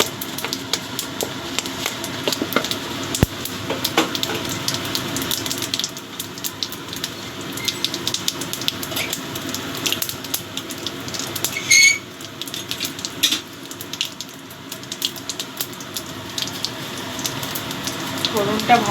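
Whole cumin seeds crackle and sizzle in hot oil as tempering for a crab curry, a steady close frying hiss with scattered pops running throughout.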